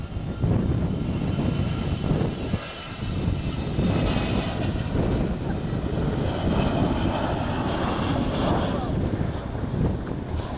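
The Avro Vulcan XH558 delta-wing bomber makes a flying pass at an air day display, and its jet engines roar loud and continuous, with a brief dip before the noise swells again under wind buffeting on the microphone.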